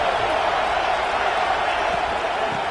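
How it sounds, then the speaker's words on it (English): A stadium crowd in the video game NCAA 26 gives off a loud, steady roar with no breaks, with commentary heard under it. "Listen to the crowd energy here in the early going."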